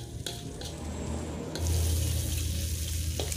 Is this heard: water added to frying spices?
yes